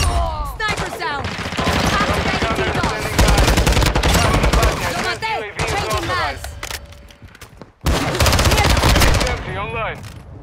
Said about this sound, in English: Sniper sound.